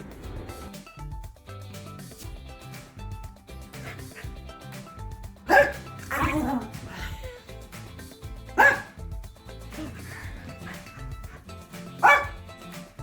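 A dog barks in short sharp bursts from inside a car on a mountain drive, three separate yips spaced several seconds apart over a steady background of music and road noise.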